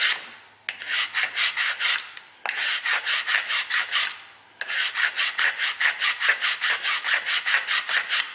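Rust being scraped off the ears of a Honda Ridgeline rear brake caliper bracket with a hand tool, rapid rhythmic raspy strokes in three bursts separated by brief pauses, close and alone.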